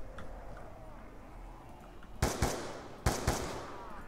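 Two short bursts of gunfire from Call of Duty: Black Ops 2 Zombies on the Buried map, each a quick double crack over a low game ambience with no talk.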